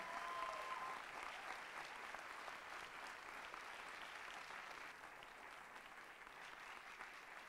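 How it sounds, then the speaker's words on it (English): Sustained applause from an audience at a Bharatanatyam dance debut recital, an even, continuous wash of many hands clapping at a moderate distance throughout. "can we please have another round of applause for Nagalakshmi?"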